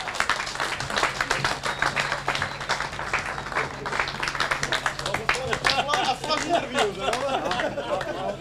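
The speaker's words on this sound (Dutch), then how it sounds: "Uw applaus voor de Duitser met het nummer 23 vandaag van start gegaan" Audience applause for the German winner of a cycling race, the 75th Grote Prijs Beeckman, dense clapping and crowd chatter at a podium ceremony, heard under an announcer's voice and crowd noise.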